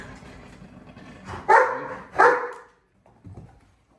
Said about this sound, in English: I get barked at again